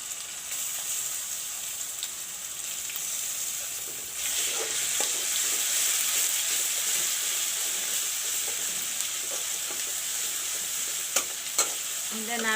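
Onions and garlic paste fry in a pan for a drumstick and potato curry, a steady close sizzle with scraping stirs that grows louder partway through, plus a few sharp utensil clinks near the end.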